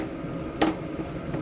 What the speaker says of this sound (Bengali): তো এই যে এখানে এবার শাটিং মাছ ভাজছি